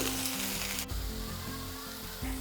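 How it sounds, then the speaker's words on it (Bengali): Ginger-garlic paste and grated raw mango frying in a pan for a fish curry, a steady close sizzle with a brief stir or clatter near the start, no talking. "সব কিছুর সাথে এটাকেও একটু হালকা ভেজে নেব।"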